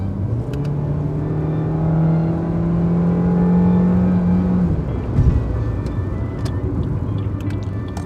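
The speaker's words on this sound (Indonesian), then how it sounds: "suara mesin itu tentunya menjadi faktor yang kurang enak untuk didengarkan" Suzuki Baleno hatchback engine droning inside the cabin, a steady hum that rises in pitch as it revs, then drops off with a thump, continuing as a lower whir under faint road noise.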